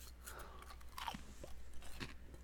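Lay's Southern Style Biscuits and Gravy potato chips crunch between the teeth in a few quick, close bites and chews, with no talking.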